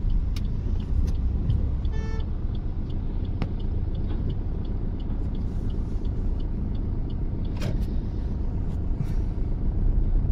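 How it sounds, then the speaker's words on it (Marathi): A 2019 Maruti Suzuki Ertiga ZDi with a 1.5 L diesel engine drives along, giving a steady, loud road rumble and engine drone with no voices. "खूप सुंदर अशी गाडी चालत आहे मित्रांनो"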